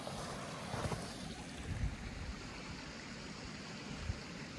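Grout Creek, a tributary stream in Big Bear, flows in winter with a steady, broadband rushing wash, close and continuous with a few soft splashing bumps, and no voices.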